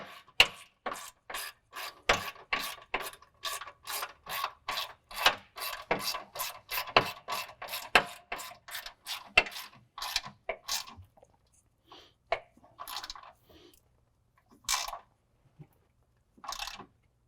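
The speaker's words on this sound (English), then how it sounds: "We'll start by tightening up our rear bolt here." A ratchet clicks rapidly and rhythmically as it tightens a rear bolt, a close series of sharp ratcheting strokes that slows and thins into scattered clicks and pauses toward the end.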